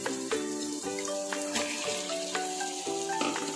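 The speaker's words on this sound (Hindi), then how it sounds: "और कीमे को भी अच्छे से चला देंगे ताकि प्याज और कीमा आपस में एकदम मिक्स हो जाए" Minced meat (keema) and onions are stirred in a pan, with repeated scraping strokes and short clinks of the spoon over a soft sizzle, close and clear.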